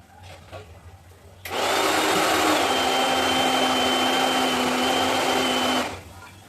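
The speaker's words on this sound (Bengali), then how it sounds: "ব্ল্যান্ডারের জারে একটু জল ঢুকিয়ে দিয়ে এগুলো ব্লেন্ড করে নিয়ে আসি" A kitchen blender whirs through ingredients with a little water in its jar, a loud steady motor whine starting abruptly at about one and a half seconds and cutting off near six, after faint background noise.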